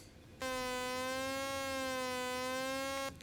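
An OP-Z synthesizer sustains a buzzy, harmonic-rich tone for about three seconds, loud and alone, with its pitch held by an LFO into a slightly wavering, siren-like note that cuts off abruptly.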